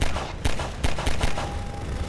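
In Half-Life 2, a helicopter opens fire with a few sharp, heavy bursts in quick succession, loud and close amid dense game noise.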